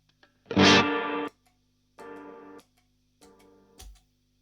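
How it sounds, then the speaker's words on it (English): Electric guitar through a VOX AC15 amp, with its reverb switched on and off: three separate strummed chords, the first loud, the later two softer, each cut off abruptly or left ringing. "I've got a foot switch which is toggling on and off the reverb"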